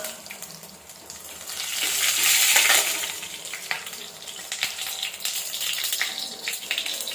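Cumin seeds hit hot oil for Bombay sambar, producing a rushing sizzle that swells then settles into a steady crackling fry with faint spattering pops, no voices present.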